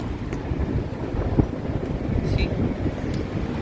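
Strong wind gusting outdoors in Barcelona, a steady rumbling buffet across the microphone, with someone speaking over it.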